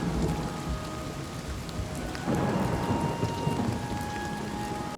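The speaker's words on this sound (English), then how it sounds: "It's not the craziest rain I've ever seen in a video game." Steady rain hisses down with rolling thunder rumbling through it in the game Oblivion, a continuous, dense storm ambience with no voices.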